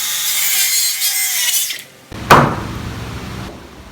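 A saw trims a piece of wood for wall framing, giving a short grating cut that stops, followed by a sharp knock as the piece is set down or dropped.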